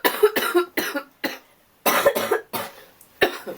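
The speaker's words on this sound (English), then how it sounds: "Cough break." A series of loud, close coughs in bursts with short pauses between them, no speech.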